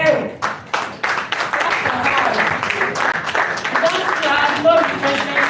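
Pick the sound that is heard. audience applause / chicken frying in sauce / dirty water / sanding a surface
audience applause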